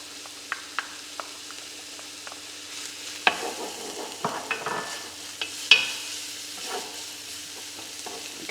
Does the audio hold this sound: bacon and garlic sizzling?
yes